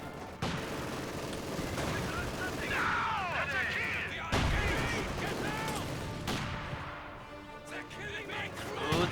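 Sniper shots and gunfire in the real-time strategy game Company of Heroes 2, a few sharp, loud cracks spaced apart among scattered battle noise, with a commentator talking throughout.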